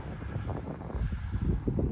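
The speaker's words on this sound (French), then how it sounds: "il y a peut-être du vent" Wind on the Norwegian coast buffeting the microphone in gusty, low rumbling bursts, fairly close and uneven, with no voices.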